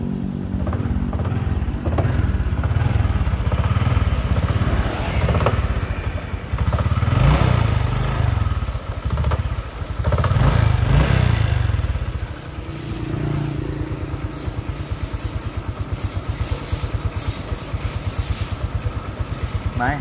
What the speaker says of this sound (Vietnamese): Rồi để qua nổ máy cả nhà nghe nha.